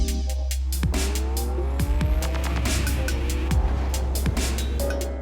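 A Lamborghini Aventador LP 750-4 SV engine roars at high revs with tire squeals and sweeping pitch changes, loud and continuous.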